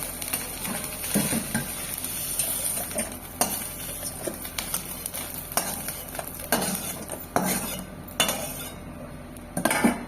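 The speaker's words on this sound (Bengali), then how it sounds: "মাশরুমটা কিন্তু ভাজা হয়ে গেছে, এইভাবে ভেজে তুলে নেব এবারে" Fried mushrooms lifted out of hot oil in a wok, with close metal scraping and clinks of a spatula or slotted spoon over a steady soft sizzle, irregular knocks recurring through the stretch.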